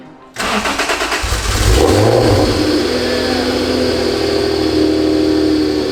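A junkyard Honda NSX engine with new exhaust headers cranks briefly, catches, and fires up. It rises in a short rev and then settles into a steady, loud idle close by.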